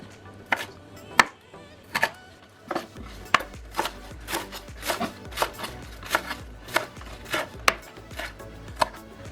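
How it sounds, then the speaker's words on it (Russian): A knife chops green onion into long pieces on a cutting board, a series of about twenty crisp, close taps in a loose, uneven rhythm, alone without talk. "Зеленый лук режу длинными кусочками."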